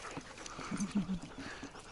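Sled dogs pant after a sulky run, with a few quick, close breathy pulses and soft whimpery sounds over a quiet outdoor background.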